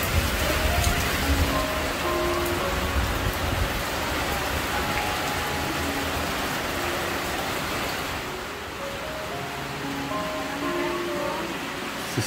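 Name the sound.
heavy rain falling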